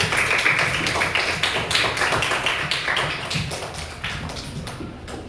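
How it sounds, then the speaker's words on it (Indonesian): Children in a classroom clap rapidly for classmates, a dense round of applause from a group that stays loud and then thins out slightly toward the end, with no talking over it. "Kasih tepuk tangan untuk Zain dan Manda dulu."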